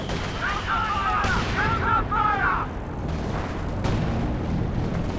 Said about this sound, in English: Priest creeping barrage coming in now.